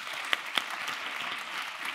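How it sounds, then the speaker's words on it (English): An audience at a music-and-health arts event gives a short, steady round of applause. Many hands clap at moderate volume, with a couple of sharper, nearer claps standing out early on. "Can we just have a round of applause?"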